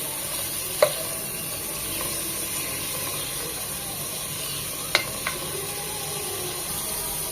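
Chicken fries with whole spices and onion in a pan, giving a constant close sizzle with a few sharp scrapes and knocks from a stirring spatula; no voices.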